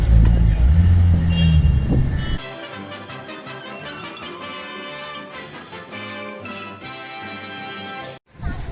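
A Porsche 911 GT3 RS Manthey crawls along a Mumbai street hunting for a parking space, its engine a steady, busy drone amid loud traffic, with a heavy rumble and voices early on before the sound cuts out near the end.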